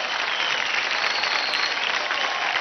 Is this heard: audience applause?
yes